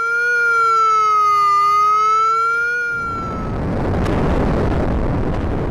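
An outdoor warning siren in Tulsa sounds a steady, loud wavering tone for about three seconds, then cuts off abruptly into a burst of loud broadband roaring noise.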